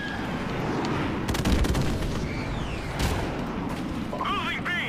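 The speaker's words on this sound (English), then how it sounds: "Airstrike." Airstrike explosions in Call of Duty 4 Modern Warfare Remastered, a dense rumbling barrage of booms and gunfire with a few sharper blasts in the middle, loud and continuous, plus a brief high whine near the end.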